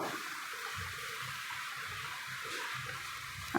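Cooked meat and its broth are poured into a pot of khichuri, giving a steady, soft liquid pour and splash that runs throughout at moderate loudness.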